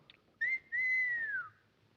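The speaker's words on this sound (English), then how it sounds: "Let me hear you whistle" A person whistles two clear notes, a short one then a longer sustained tone that slides downward at the end, alone in a quiet room.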